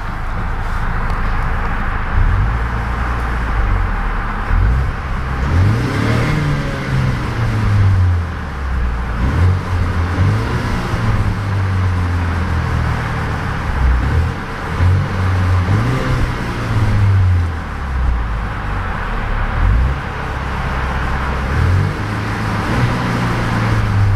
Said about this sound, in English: take a listen to the soundtrack of that little inline four-cylinder engine and see what kind of noise she produces